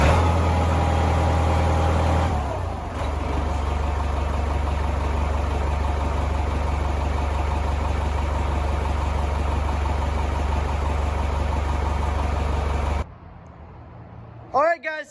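A tractor engine idles with a constant low, heavy rumble while its 3-point hitch hydraulics are operated. It runs steadily for most of the stretch and then drops away sharply near the end.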